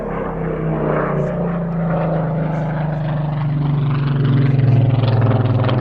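A Merlin-engined propeller warbird flies at an air festival, its engine giving a loud, throbbing drone with a pulsing tone that grows slightly stronger as it draws nearer.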